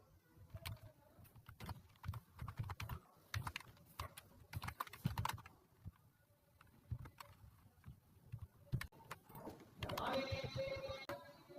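Rapid, irregular clatter of a computer keyboard as someone writes a Python function, close and steady with short pauses, faint extra hum near the end.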